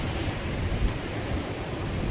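Sea waves at Bogve beach on the Konkan coast give a steady, close wash of surf with wind noise across the microphone. The roar stays even for about two seconds, with no voices.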